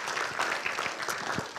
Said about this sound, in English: give God a hand of applause for that